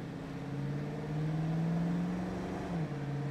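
A 1967 Mercury Cougar accelerates steadily toward highway speed, its engine note climbing in pitch over a continuous in-car drone, then dipping briefly at a gear change.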